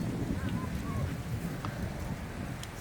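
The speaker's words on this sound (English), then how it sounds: "It's pretty breezy" Wind at Haulover Inlet beach in Miami gusts and rumbles steadily against the microphone, a constant broad roar with faint surf-like wash beneath.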